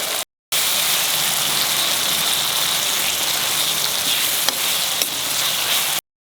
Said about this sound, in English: keep frying. Till all these 4 ingredients become homogeneous mix.